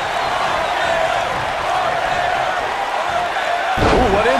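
A wrestling cutter in the WWE 2K19 video game lands as a heavy thud late in the clip against a constant roaring arena crowd, with a commentator's voice in the mix.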